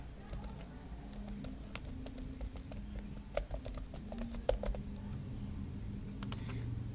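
Computer keyboard keys tapped to enter an email address at a Google sign-in on a Chromebook: sparse, light clicks in short irregular runs over a steady low background hum.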